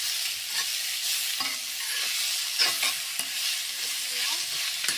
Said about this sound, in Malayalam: നല്ലപോലെ ഇളക്കി കൊടുക്കാം സവാള നല്ലപോലെ മൂത്ത് വരണം